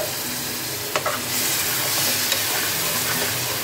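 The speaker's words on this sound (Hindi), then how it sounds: "तो दोस्तों अब इसके ऊपर डालेंगे हम टमाटर प्यूरी।" Tomato puree hits sizzling fish curry masala in a pan, a loud close sizzle with a couple of sharp clinks near the start, then a steady frying hiss.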